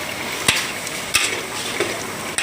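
Eggplant is stir-fried with green curry paste in a hot pan, a steady soft sizzle broken by a few light scrapes and taps of a utensil against the pan.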